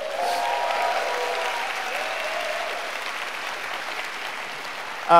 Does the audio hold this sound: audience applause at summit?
yes